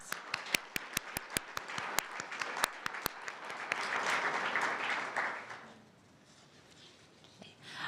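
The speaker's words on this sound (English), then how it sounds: "please give her a round of applause" Applause at a university humanities and global studies scholarship award ceremony: a crowd claps steadily with a few sharp individual claps up front, swelling for several seconds before fading to quiet room tone.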